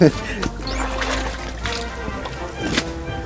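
Water pours and trickles out of a jacuzzi onto grass in an uneven, splashing stream, with someone talking over it.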